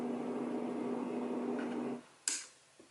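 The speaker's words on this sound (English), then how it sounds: "And then conversely, on the other side is the fan noise button." A LATME white noise machine running on its fan noise setting gives a steady, even broadband whoosh with a low hum for about two seconds, then cuts off, followed by a short click and a faint tap.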